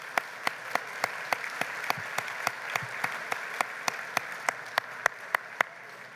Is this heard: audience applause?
yes